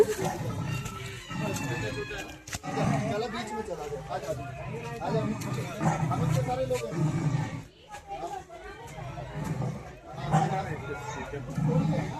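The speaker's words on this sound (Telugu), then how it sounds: "సింహ గర్జన లాగా ఉందిగా" A loud recorded lion-like roar booms repeatedly from the sound system at a tiger cave attraction in Nainital, Uttarakhand, with visitors talking and exclaiming over it.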